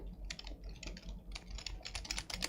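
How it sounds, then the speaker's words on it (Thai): Rapid clattering of computer keyboard keys, irregular bursts of typing close by with brief pauses, no voices. "อันนี้เสียงคีย์บอร์ดนะคะ"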